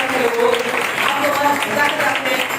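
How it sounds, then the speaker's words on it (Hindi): A church congregation claps in a steady, moderately loud patter while voices talk over it, the clapping mixed with speech throughout. "ताली बजाए"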